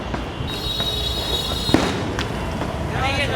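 Diwali firecrackers pop in an outdoor celebration: a sharp nearby bang stands out mid-clip among scattered crackles and bursts, with a high whistle and voices of people talking around it.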